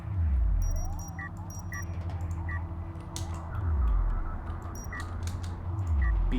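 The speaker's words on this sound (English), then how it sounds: "Beep, beep, beep. That's the sound of the probe" Probe in the real-time strategy game Homeworld: Deserts of Kharak emitting short high electronic beeps in small clusters, fairly faint over a low steady engine-like drone and scattered game effects.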